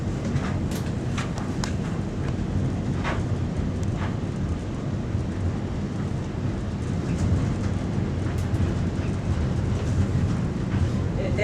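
A zoo tram rolls through the woods with a steady low rumble and occasional clicks and rattles, while passengers talk over the engine drone throughout.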